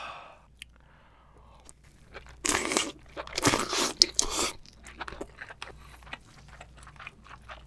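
Close, loud crunching and biting into a 5 kg king crab, with sharp cracks of shell and wet chewing in irregular bursts, no talk.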